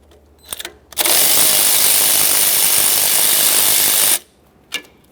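A power tool spins off a 12mm starter nut on a 2009-2010 Pontiac Vibe in one loud, steady three-second whir, close by, with brief clicks and handling noises before and after.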